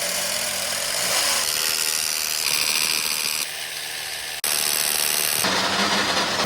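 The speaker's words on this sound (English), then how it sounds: "I'm going to mark and drill the cable hole first" A power drill boring a cable hole through a house wall, a loud steady grinding whine that shifts pitch in stages with a brief stop partway through, close by and with no talk.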